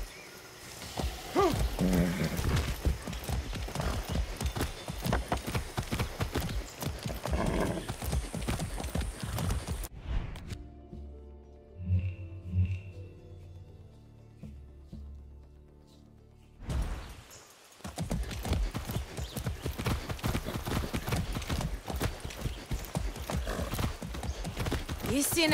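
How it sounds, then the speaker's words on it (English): Video game horse hooves clip-clop steadily in Far Cry 6, with a brief whinny, broken by a short quieter stretch of low rumbling before the trotting resumes. "That's a good horse. Let's go."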